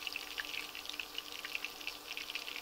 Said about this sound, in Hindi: बिल्कुल धीमी आंच पे इसको फ्राई करना है